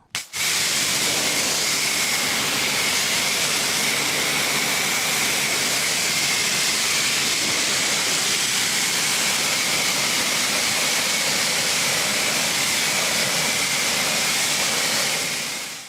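A BMW i4 M50 being rinsed during a car wash gives a loud, steady broadband spray of pressurised water that holds unbroken for the full duration, close and constant with no talking over it.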